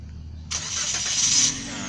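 A 2016 Toyota Vios with a refreshed engine and CVT gearbox starts by push button: quiet cabin hum, then a sudden loud crank at about half a second that catches and settles into a steady, fairly loud idle.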